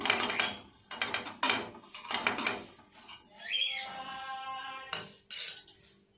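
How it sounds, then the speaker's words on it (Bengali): Fried neem leaves stirred in a wok with a metal utensil, several bursts of scraping and clinking against the pan, close and moderately loud, separated by brief pauses and a squeaky rattle, with no talk. "অল্প করে একটুখানি কড়াই নেড়ে নেব"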